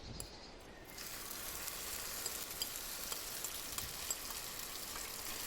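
Ingredients hit hot oil in a pan and set off a steady, close frying sizzle that starts abruptly and holds as a dense crackling hiss, with scattered sharper pops throughout and no talking.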